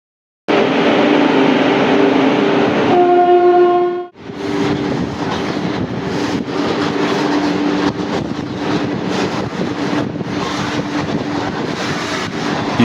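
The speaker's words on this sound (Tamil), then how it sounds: "காரைக்கால் போர்ட்ல இருந்து கறி ஏத்திக்கிட்டு போகுது பாருங்க இந்த ட்ரெயின்" A long coal-laden freight train rumbles loudly past close by, its horn blaring briefly near the start, followed by steady clattering wheels on the rails.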